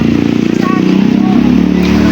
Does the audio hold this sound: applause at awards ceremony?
no